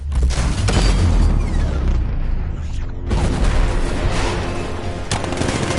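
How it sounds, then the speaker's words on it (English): A 60mm cannon fires in the Batman: Arkham Knight video game, heavy booming blasts with rumbling gunfire echoes, loud and close, the roar dipping briefly before another shot rings out. "60mm cannon operational."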